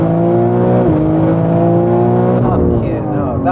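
A 1300hp BMW M3 with screamer pipes revs hard, a loud, harsh engine note holding high and wavering in pitch, with voices over it.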